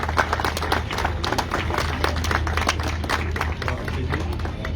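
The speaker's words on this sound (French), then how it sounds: "les applaudissements à nouveau pour Mats Pedersen" Crowd applause for cyclist Mads Pedersen at a Tour de la Provence podium ceremony, a continuous bright clatter of many clapping hands over a low steady hum, lasting the whole stretch.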